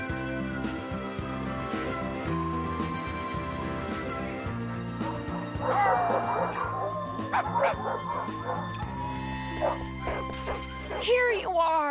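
A small dog yips and whimpers in a comedy scene, brief high barks rising over music and people talking.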